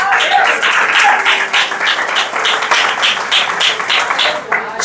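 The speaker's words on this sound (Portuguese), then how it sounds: "pode aplaudir aí." Congregation applause during a Portuguese-language family church service, loud, close, uneven clapping from many hands in a lively burst, with a few scattered voices mixed in.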